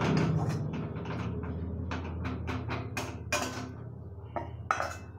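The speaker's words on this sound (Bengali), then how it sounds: "দিয়ে তারপরে ঘিটা দিয়ে বেসনটাকে মিক্স করছে" Roasted gram flour (besan) being mixed with ghee in a metal pan for besan laddu, heard as a run of scraping and clinking spoon-on-metal knocks of varying loudness, without talk.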